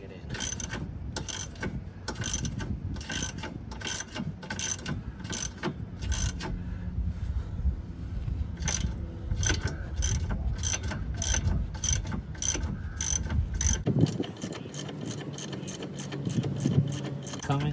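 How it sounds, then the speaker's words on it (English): A ratchet wrench tightens the nut on a lower ball joint during a car suspension repair: steady, close, rhythmic clicking strokes in a long series, speeding to quick regular clicks near the end. "So we're gonna take our wrench, start tightening it in."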